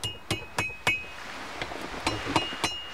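Metal being hammered on the horn of an anvil while forging a nail hook: sharp, ringing clinks struck at a brisk, slightly uneven pace, close and fairly quiet, with no talking.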